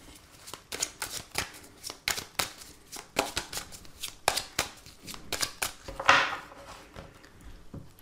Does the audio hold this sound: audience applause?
no